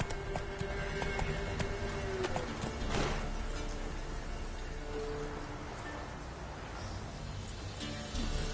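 A horse gallops in The Witcher 3: Wild Hunt with a steady, continuous clatter of hooves, a brief whinny near the start, and a dense background wash throughout.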